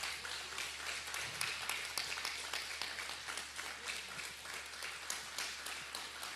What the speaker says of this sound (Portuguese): Quem pode dar uma salva de palmas para Deus, né?